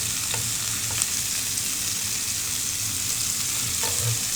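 Minced garlic frying in a pan for spicy carbonara tteokbokki, a steady close hiss of sizzling oil with a few faint stirring clicks and no talk.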